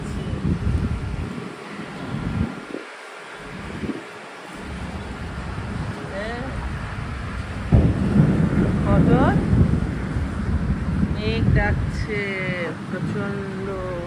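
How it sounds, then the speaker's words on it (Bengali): Thunder rumbles low and rolling during early morning rain, a heavy wind-buffeted roar that swells and fades, with faint bird chirps in the background. "মেঘ ডাকছে গুড়গুড় গুড়গুড় করে"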